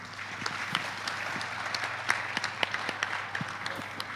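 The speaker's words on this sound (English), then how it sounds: "could you please join me in a round of applause for our speakers" Audience applause fills a conference hall after a plenary session, a steady wash of many hands clapping at moderate volume with a few sharper claps standing out, no voices over it.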